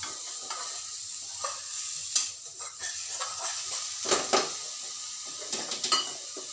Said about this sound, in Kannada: ಒಂದು ಸ್ವಲ್ಪ ಹುರಿತಿದ್ದಂಗೆ ಅದು ಬೇಗ ಬೇಯುತ್ತೆ